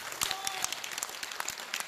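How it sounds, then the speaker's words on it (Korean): Applause from an audience at a Korean political speech, a scattered, fairly quiet patter of claps with no talking over it. "동의하시면 박수 치십시오."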